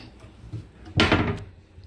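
A cabinet door or drawer in a new home office is handled. Faint scuffs come first, then one sharp, close knock or bang that fades quickly.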